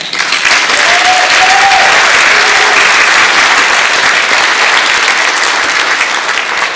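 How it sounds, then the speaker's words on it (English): Loud, sustained applause from a large audience at a band concert, dense clapping that continues steadily throughout. "Let's have another round of applause"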